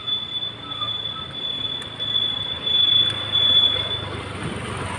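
A train arriving at a railway station near Guruvayur rumbles nearby with a sustained high metallic wheel squeal, the rolling noise swelling and easing as it moves along.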